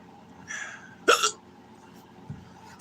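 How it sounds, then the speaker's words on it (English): A sudden sharp hiccup bursts out alone near the middle, with fainter breathy sounds before it and a small low thump afterward, all close and fairly quiet. "I know I said I didn't want to make the whole stream about my hiccups"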